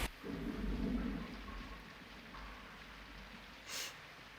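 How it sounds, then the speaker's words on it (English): A film soundtrack carries a steady rain hiss and a deep, rolling rumble of thunder, quiet and enveloping, with a brief brighter swell near the end. "The rain, the thunder in my left ear, in the right ear."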